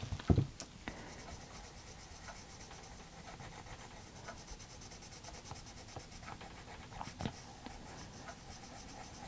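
A coloured pencil scratches and rubs back and forth on paper, close and quiet, in a continuous rasping stroke pattern with a few sharper taps of the pencil set down.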